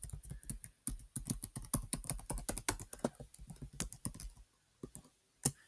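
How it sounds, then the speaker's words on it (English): Typing on a computer keyboard: close, crisp key clicks in quick irregular runs with a few short pauses, heard alone. "what you do is you type out the rest of the alphabet"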